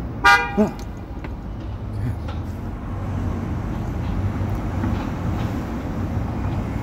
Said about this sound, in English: It's so quiet here that a car horn actually rattles my nerves